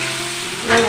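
Turmeric and spices fry in a pan for polao, giving a steady close sizzle with a brief louder stir near the end, no talking.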